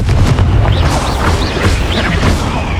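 A Confringo explosive spell blast in the video game Hogwarts Legacy: a loud, continuous rumbling boom with dense low-end roar and crackling bursts, filling the whole moment.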